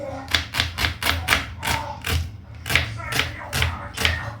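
A knife chops onion into small pieces on a board, giving a fast, regular run of sharp, close taps at about three per second throughout.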